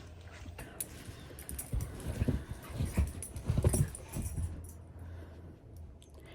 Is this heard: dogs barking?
yes